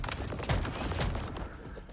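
Gunfire from the survival shooter Once Human, a busy stretch of shots and mechanical clatter at steady moderate loudness, with no clear separate bursts standing out.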